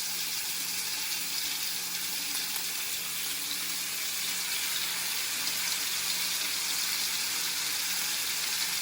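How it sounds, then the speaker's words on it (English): Steaks searing in hot canola oil in a pan, a steady broadband sizzle and crackle that holds at an even level throughout with no talking. "we have some canola oil heating up on a pan, and so then we just plop the steaks in"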